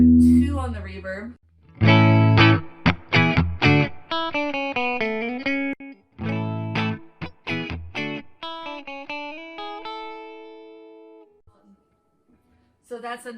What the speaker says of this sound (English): So that's a nice little subtle reverb sound.